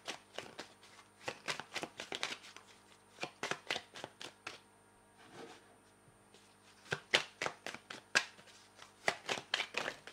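Oracle cards are shuffled and drawn in close, quiet bursts of rapid riffling and flicking, pausing briefly midway before more shuffling resumes, with no speech.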